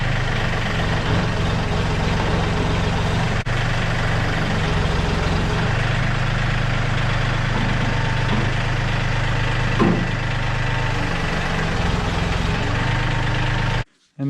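A tractor engine runs steadily with a deep, constant drone as long forks lift the bed off a 2003 Chevrolet S10 pickup, close and loud throughout before cutting off abruptly at the end.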